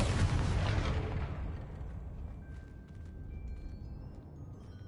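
A booming blast from the Confringo blasting spell hits loud at once, then its deep rumble slowly fades away with no talking.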